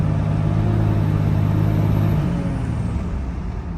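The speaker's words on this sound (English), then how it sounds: "But yeah, you can hear the fan now." The cooling fan on a 3rd gen Cummins diesel truck with a cooling failure roars steadily and loudly with a low rumbling hum underneath, easing slightly toward the end.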